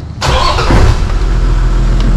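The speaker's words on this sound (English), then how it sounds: "if we start the car now" A Toyota Land Cruiser 78 Series Troopy with the 1HD-FTE diesel engine cranks and fires up, settling into a loud, close, rumbling idle.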